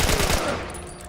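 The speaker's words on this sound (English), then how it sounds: "here I am just burning through the rest of my bullets" Rapid automatic gunfire from The Last of Us video game bursts loudly at first, then trails off into a fading ringing echo.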